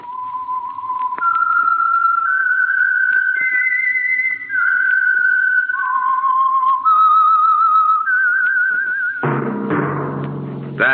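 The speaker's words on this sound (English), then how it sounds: "That whistle is your signal, the Whistler." A lone human whistler carries a slow, wavering melody of sustained tones, loud and close, the signature tune of a radio mystery show, before a burst of orchestral music takes over near the end.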